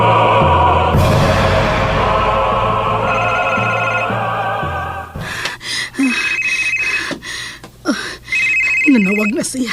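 A telephone ringing in a horror audio drama, a sustained ring under dramatic music, then repeated electronic ring bursts with pauses between them, loud and close, with vocal sounds mixed in.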